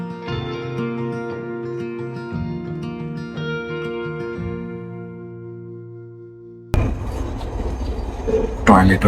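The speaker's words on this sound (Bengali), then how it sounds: "ট্রেন পরিষেবা বেশ ভালো, একদম অন টাইম ট্রেন এলো।" Taiwan train running through stations without stopping, a steady tonal hum and rumble that shifts partway into louder rattling wheel noise, with speech over it.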